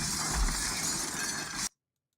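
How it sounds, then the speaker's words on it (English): Glass shatters loudly as a man is knocked through a pane in a Steven Seagal action movie fight, a dense crash of breaking shards that cuts off abruptly into silence. "knocks him through the glass"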